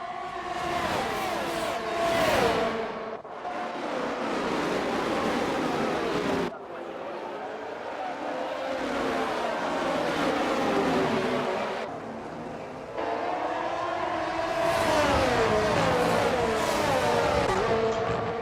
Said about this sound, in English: It's lights out at the Australian Grand Prix as the cars head into Turn 1